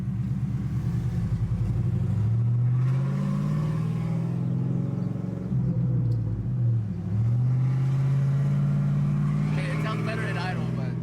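A low, loping engine idles and revs with a choppy, rumbling exhaust through an open cutout on a cammed 6.0 Chevrolet Silverado truck, loud and close, with a voice talking over it.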